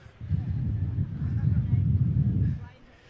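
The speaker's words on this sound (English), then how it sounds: "It's quite windy here." Strong wind blows outdoors, buffeting the microphone with a low, rough, continuous roar that rises and falls for a few seconds before easing off.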